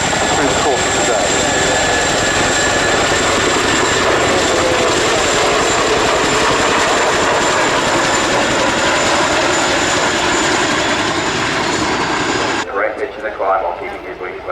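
An RAF Chinook helicopter performs a flying display at an air show, its loud, continuous rotor and engine roar with a high turbine whine dominating throughout, while an announcer's voice talks over it.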